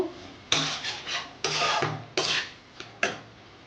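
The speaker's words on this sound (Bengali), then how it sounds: "ঘি দিয়ে ভালো করে নেড়ে নেব" Spatula scraping and stirring banana flower with ghee in a pan while cooking chingri mocha ghonto with prawns, six close, distinct scraping strokes in an uneven rhythm, loud and alone with no talking.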